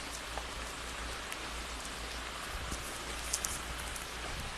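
Steady rain pours down outdoors on a damaged road, a dense even hiss with scattered louder drops and no voices.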